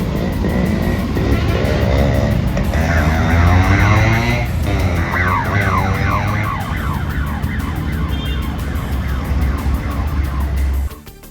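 A police siren wails up and down over loud, close traffic and engine noise, continuing until it cuts off at the end.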